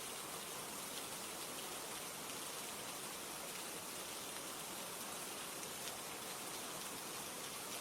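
Steady rainfall hisses evenly across the whole stretch, a dense, soft wash of drops on surfaces with no breaks and no voices.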